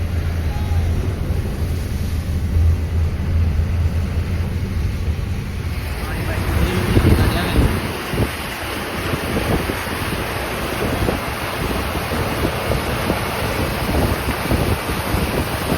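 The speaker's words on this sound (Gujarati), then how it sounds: "બહુ પાણી જો ભાઈ આવે છે બહુ પાણી ફાલ આવે છે" Heavy floodwater rushes past in a loud, unbroken roar that grows rougher and more turbulent midway, with a vehicle moving through the water.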